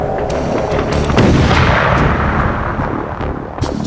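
Rapid heavy gunfire from Magnum-caliber weapons firing high-velocity rounds at targets downrange, a dense continuous barrage of loud overlapping shots with sharp reports standing out, no talking.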